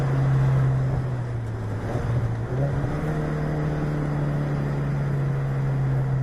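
A turbocharged Ford Mustang EcoBoost with a six-speed manual accelerates, its steady, droning engine note heard from inside the cabin, rising slightly and holding loud throughout.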